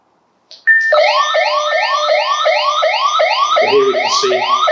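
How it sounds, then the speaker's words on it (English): A lone worker emergency alert alarm comes through on a two-way radio as a loud, continuous electronic tone of rapidly repeating rising sweeps, heard alone with no talk. "So here we can see on the other radio, the alarms come through."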